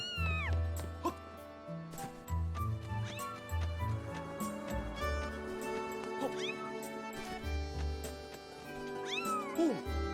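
A cat meows repeatedly in the video game The Legend of Zelda: Skyward Sword, with several drawn-out, pitch-bending cries over the game's background music and sound effects.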